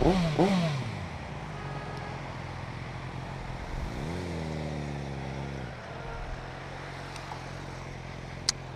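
A motorcycle engine hums steadily at a distance, rising in one revving swell midway and then settling again, a continuous drone with no voices.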